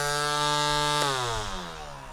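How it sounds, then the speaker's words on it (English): A small, light line trimmer spins at high speed, giving a loud, close, steady motor whine that shifts pitch partway through and then winds down slightly. "for such a small line trimmer, this thing spins incredibly fast"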